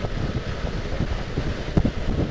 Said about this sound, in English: the wind's buffeting me all over the place today